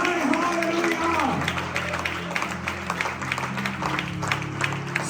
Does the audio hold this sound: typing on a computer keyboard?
no